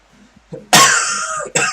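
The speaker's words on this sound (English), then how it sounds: "I have a pretty bad cough I'm trying to get over" A single harsh cough close to the mic, followed by a shorter second cough, with a faint throaty sound just before.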